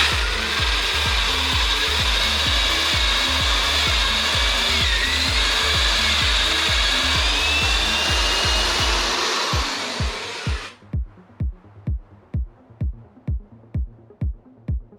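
A power drill whines steadily through wood at an angle through a guide jig for about ten seconds, then stops, leaving a run of evenly spaced thumps or clicks.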